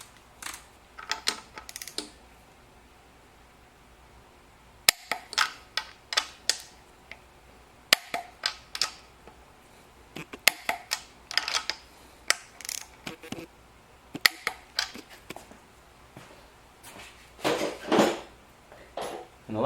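Torque wrench tightening engine bolts in a crisscross pattern to final torque on a 2018 Ford Focus long block, with repeated sharp metallic ratchet clicks and clacks in irregular bursts, close by, with no talking.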